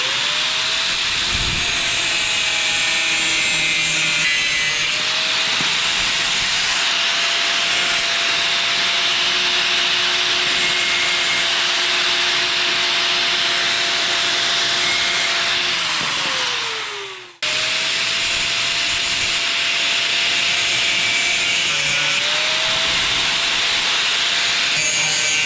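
A loud, continuous power tool grinds and cuts through side panel material for an adventure bike, a steady whining drone that briefly drops out, then resumes at full intensity.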